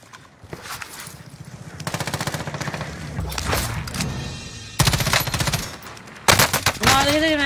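Video game gunfire during a shooter match, with rapid automatic bursts and fusillades, loud and close, in several separate volleys, with faint speech in the background.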